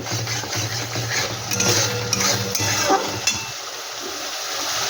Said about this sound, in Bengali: এই ঘিটা দিয়ে একটু কষিয়ে নেব।